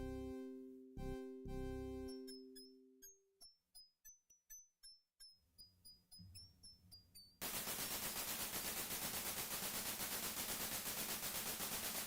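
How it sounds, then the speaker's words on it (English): Retro Kings Quest V game audio with chiming tones and rapid sharp bursts of rattling machine gun fire, ending in dense continuous hissing noise. "Sounded like he was firing a freaking machine gun there."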